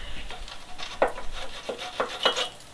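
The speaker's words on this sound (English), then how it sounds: "Just taking a wire brush, kind of clean up the area." A wire brush scrubs the threads of a brake line nut on a Toyota Yaris, producing short quiet scratchy strokes in an uneven rhythm, close up and without speech.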